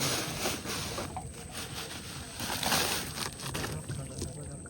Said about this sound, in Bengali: এই ছোট নৌকার সুবিধাটা দেখো চর ছাড়াই এক এক হাত পিছন দিয়ে বাইরে দিয়ে তুমি নৌকা নিয়ে যাবে